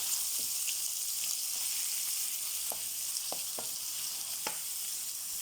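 Chopped onion sizzles and fries in ghee as the base for a chicken masala, a steady close hiss broken by a few soft stirring clicks.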